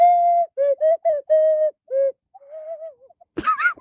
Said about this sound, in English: You should do the other whistle at the end.